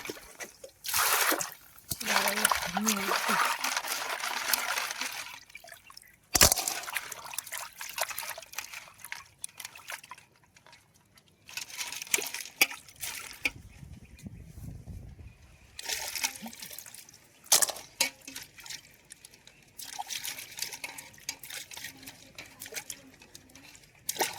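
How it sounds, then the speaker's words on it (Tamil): King crab is washed by hand in water, with trickling, sloshing and splashing that come and go in bursts between quieter moments, close by, and a voice speaks at times. "இப்போ வந்து நண்டை கழுவி எடுத்துக்கலாம்"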